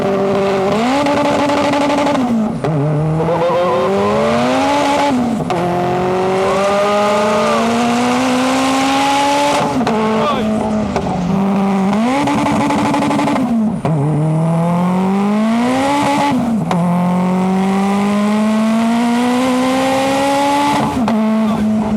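A K24-swapped all-wheel-drive Honda mini-truck launches hard, its engine screaming up through the revs in long rising pulls broken by brief shift dips, loud and close throughout.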